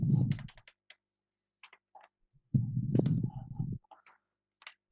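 Quick bursts of clicking keys on a computer keyboard come up close and dry, separated by near silence, while a speaker talks between the bursts.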